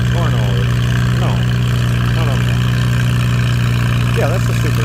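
Super 8 antique pulling tractor at a tractor pull in Mt. Carroll, Illinois, its engine idling with a loud steady low drone while people talk over it nearby.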